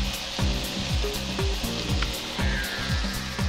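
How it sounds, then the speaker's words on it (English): Asparagus sizzles steadily in a hot pan with white wine vinegar, a continuous close frying hiss with a few clinks and scrapes of stirring and no voices. "Next, I'm gonna add my asparagus."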